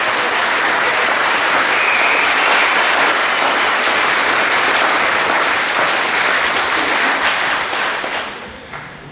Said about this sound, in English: I want you to give Angela a magnificent round of applause